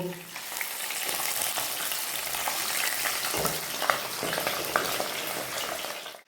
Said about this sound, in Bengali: প্রথমে সর্ষের তেলে মাগুর মাছগুলো ভেজে তুলে নেব